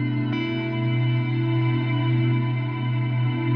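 A sustained guitar tone through a plate reverb with decay maxed at 20,000 milliseconds, heavily reverberated with a long, smeared decay that keeps ringing steadily throughout, dense and washy, with no voices.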